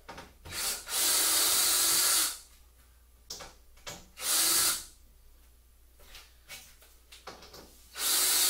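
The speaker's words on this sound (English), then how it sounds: "Take the screws out here." Power drill backing out screws, loud whirring bursts of a second or two repeated several times, separated by quieter clicks and handling noises nearby.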